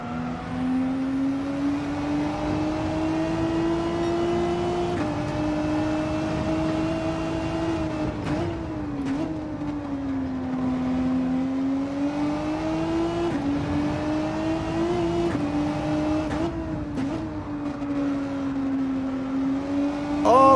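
A race car engine in Gran Turismo 7 on the Trail Mountain circuit holds a loud, steady drone for the full stretch. The pitch rises and falls in smooth waves as the car revs and shifts gears, and no voices come through.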